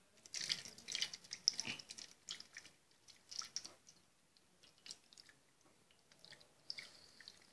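Water trickles and splashes through a flood channel in a small model village, faint and close, with irregular drips and wet gurgles coming in uneven bursts and no voices.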